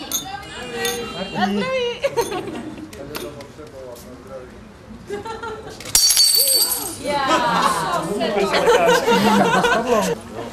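Glasses shatter during a wedding toast, with a sudden sharp crash and tinkling shards amid lively chatter and laughter from guests; people talk throughout.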